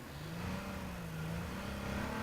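A car engine in H1Z1 hums steadily with a slowly rising and falling revving tone, fairly close and continuous.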